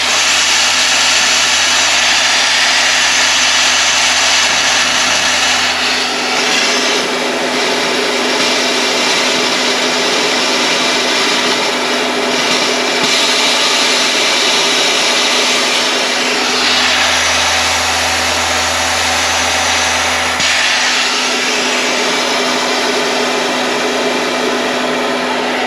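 High-pressure air bleeds from the bleed valve of a 4500 PSI PCP compressor used to fill paintball and air gun tanks, a loud continuous hiss that runs steadily throughout with a low droning hum rising and falling beneath it.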